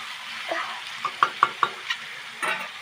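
Salt and turmeric fry in a pan, with a soft sizzle underneath a quick series of sharp spatula taps and stirring knocks, close and distinct.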